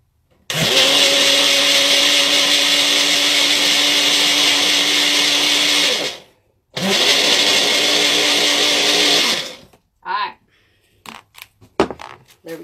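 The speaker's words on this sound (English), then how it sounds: "See my blender." A kitchen blender whirs loudly while blending a peanut butter cup coffee drink, running for about six seconds, pausing briefly, then running again before stopping, followed by clinks and handling sounds.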